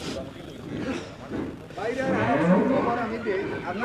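A cow lets out a long, deep, close moo that rises and swells toward the end, with a voice faintly present at the start.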